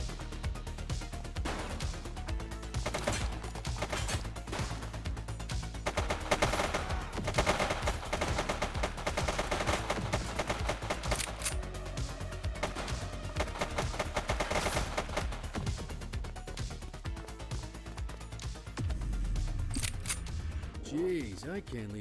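Gunfire in the police video game The Precinct, with dense rapid bursts of shots that continue almost without a break throughout, loud and close, mixed with occasional voices.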